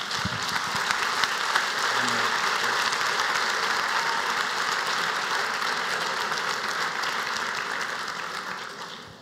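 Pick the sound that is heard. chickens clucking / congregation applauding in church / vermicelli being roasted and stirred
congregation applauding in church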